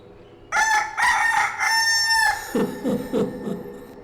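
A rooster crows loudly and close by in one long, full cock-a-doodle-doo, followed by a few lower clucking calls, with no one talking.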